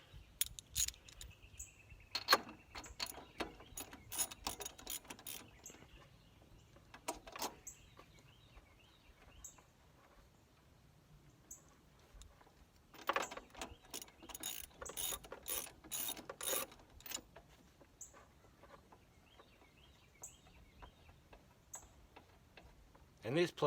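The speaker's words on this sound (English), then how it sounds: "let's go ahead and snatch these plugs out. They won't take but a second." A hand ratchet loosens and removes spark plugs from a John Deere mower, giving bursts of rapid metallic clicking separated by quieter pauses, close up, with some faint talk in the background.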